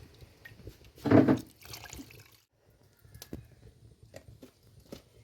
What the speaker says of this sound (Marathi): आणि थोडंसं पाणी घालते.